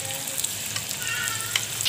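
Finely chopped onion dropped into hot oil with bay leaf, cloves and peppercorns for dhaba-style chicken keema, giving a brief close, steady hiss of frying with faint crackles.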